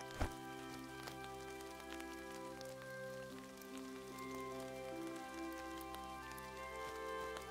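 Rain falling in the video game Mirthwood, a soft steady patter of drops on surfaces over a faint musical drone, with one brief click near the start and no talk.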